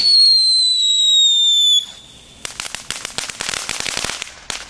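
Cheap fireworks bought from the Action discount store: a loud, high whistling tone that drops slightly and cuts off, then after a short gap a burst of rapid, irregular crackling pops nearby.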